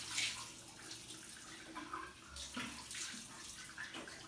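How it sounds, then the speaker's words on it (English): Lukewarm or cold tap water runs steadily while a face is rinsed off over a sink, a continuous splashing hiss with small surges and drips throughout. "I just go ahead and rinse off straight away with either lukewarm water or cold water"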